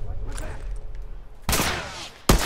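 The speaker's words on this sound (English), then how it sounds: "that may be a good time to use my rifle here" Rifle gunfire in the video game The Last of Us: after a quiet stretch of low rumble, a loud broadband shot bursts in and rings out, followed by a second sharp shot near the end.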